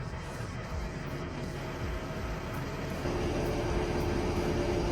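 A large crane winch with a 200-ton boom spools out long wire rope, a continuous loud mechanical rumble and drone that steps up a little in level partway through, with no talk.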